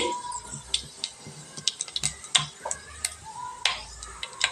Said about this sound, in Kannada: ಸಾಸ್ಮಿ ಜೀರಿಗೆ ಚಟಪಟ ಅಂದಮ್ಯಾಗ